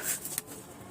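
A short, soft cooing from a pigeon close by at a loft, a brief murmuring call with a faint rustle.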